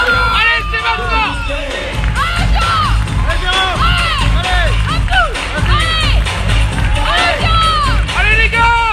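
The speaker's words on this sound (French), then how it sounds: "Sous les acclamations du public" A loud, close crowd at a Musclemania Paris bodybuilding competition cheers, whoops and shouts with rising and falling calls over a continuous roar of babble, while voices call out throughout.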